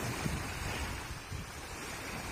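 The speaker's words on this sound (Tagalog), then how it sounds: "Ngayon po ay kalmado na ang dagat." Faint, calm sea waves wash softly under low wind rumble along the shore, a quiet, continuous and even wash.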